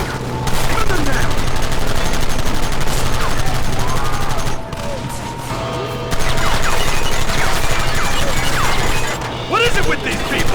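Dense, steady gunfire from a Red Dead Redemption shootout, shots crackling almost without pause across the whole stretch, with brief dips and a voice shouting over the din.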